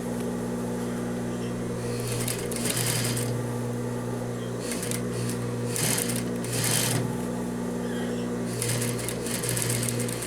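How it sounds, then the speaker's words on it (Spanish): A sewing machine stitching a pleated skirt just beside the seam, a steady motor hum with bursts of rapid needle clatter that start and stop several times. "Debemos coser justo al lado de la costura, justo abajo."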